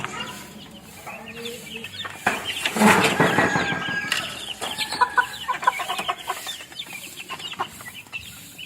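A few three- to four-month-old stag roosters in a backyard, clucking and chattering close by with a burst of flapping wings and a brief crow-like call, the calls scattered and irregular.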